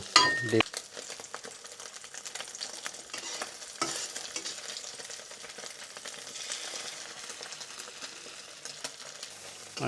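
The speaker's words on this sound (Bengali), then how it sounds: "তো ডিম ভাজা হয়ে গেল।" An egg fries in a pan for rice-and-lentil khichuri, with a steady sizzle and crackle running throughout, loud and close, broken by a brief clatter near the start. No one speaks.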